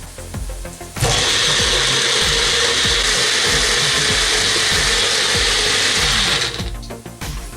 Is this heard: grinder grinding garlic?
yes